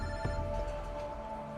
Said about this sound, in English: During the meal, Moises gets a phone call